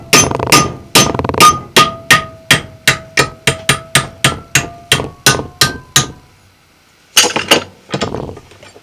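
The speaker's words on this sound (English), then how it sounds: "Peening hammer." A peening hammer strikes a brazed joint of scrap copper wire on steel held in a vise, giving about twenty sharp metallic blows in a steady rapid rhythm. A short pause follows, then a few final clanks, close and loud.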